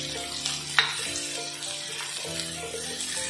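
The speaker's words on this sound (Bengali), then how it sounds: "সময় কিন্তু পেঁয়াজটা আমি ভাজা করতে থাকবো।" Onions fry in a pan until brown, giving a close, steady sizzle with a brief sharp clink from stirring near the start and continuous crackling underneath.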